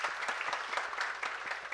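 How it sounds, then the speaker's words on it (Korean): Audience clapping at a police English exam prep lecture, steady moderate applause from a room of listeners, even and continuous throughout the short span without a voice over it. "박수 한번 부탁합니다."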